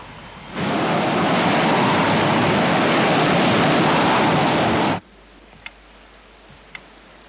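A helicopter in bad weather gives a loud, steady, wind-blown roar that cuts off abruptly, leaving quiet background with a couple of sharp clicks.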